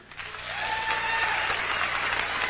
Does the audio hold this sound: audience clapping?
yes